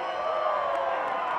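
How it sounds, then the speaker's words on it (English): A crowd cheers at a whitewater park event on the Arkansas River, a brief, steady wash of distant voices and whoops with no distinct talk. "you can hear the crowd"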